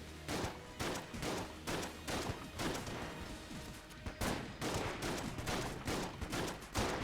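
Rapid gunfire bursts in Enter the Gungeon come as dense, repeated volleys of sharp shots in quick succession throughout, loud and close.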